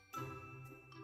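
A doorbell chimes once, a bright tinkling ring that sustains and fades softly, heard alone and fairly quiet.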